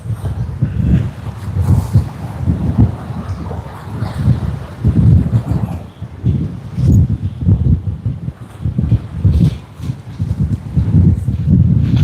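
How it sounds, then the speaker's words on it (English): Strong gusty wind at Sydney Airport beside a seawall where water splashes, roaring and buffeting the microphone in loud surging waves for the whole stretch, with no voices. "It's so windy right now"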